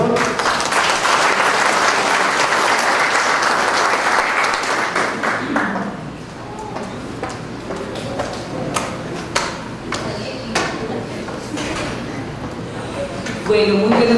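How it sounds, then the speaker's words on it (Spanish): An audience at a formal agreement-signing ceremony in Zacatecoluca breaks into loud, dense applause for the arriving vice-minister, which thins into scattered individual claps and faint room noise after about six seconds and swells briefly again at the end. "La recibimos con un fuerte aplauso, por favor"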